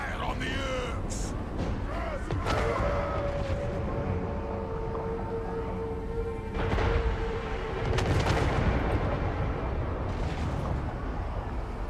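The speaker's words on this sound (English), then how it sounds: "Cannon! Grudge thrower!" Cannon and grudge thrower artillery firing in Warhammer 3 with Belegar's dwarf army, several deep booms over a rumbling battle din, with someone talking throughout.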